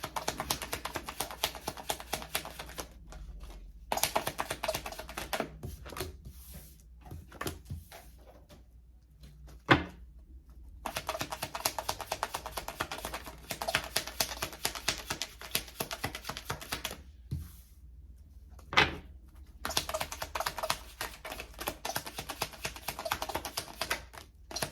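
Tarot cards being handled and shuffled close up, bursts of rapid dense riffling and tapping separated by short pauses, crisp and fairly quiet with no talking.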